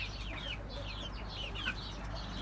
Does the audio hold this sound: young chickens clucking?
yes